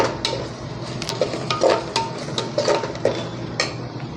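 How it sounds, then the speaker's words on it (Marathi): Misal masala being sautéed in oil in a pan: a spoon clinks and scrapes against the metal in irregular strokes over a low background sizzle. "जर तेल सुटेपर्यंत ह्याला आपण थोडा वेळ परतूया."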